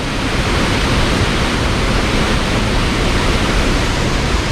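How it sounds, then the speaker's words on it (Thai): Pha Suea Waterfall in Thailand roars as a steady, dense rush of falling water, loud and unbroken throughout, with no voices over it. "มาถึงแล้วน้ำตกขาเรือ"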